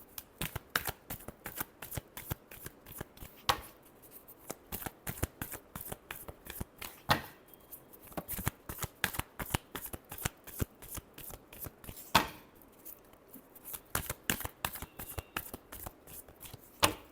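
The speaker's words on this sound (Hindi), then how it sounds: "last shuffle" Tarot cards shuffled by hand, a long run of rapid crisp riffling snaps and flutters up close, with a few louder bursts and brief pauses between shuffles.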